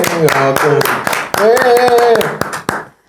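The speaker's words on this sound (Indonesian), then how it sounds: "Tepuk tangan dulu dong" A few people in a podcast studio clap hands, giving a sparse series of sharp, close claps, roughly ten in all, while voices keep talking over them.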